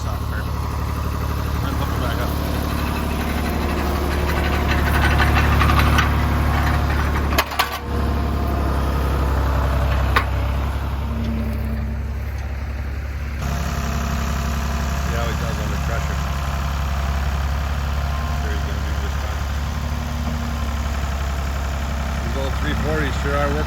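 An International 340 tractor engine idles steadily and close by, a continuous low rumble that holds for the whole stretch with a brief dropout partway through.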